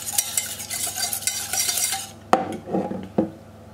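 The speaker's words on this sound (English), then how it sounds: "I have one egg, 20 grams of sugar, and 20 grams of condensed milk, and I want to mix that together." An egg, sugar and condensed milk being mixed together in a bowl: a rapid, continuous whisking scrape for about two seconds, then a few clinks and taps of the utensil against the bowl, close and with no voices.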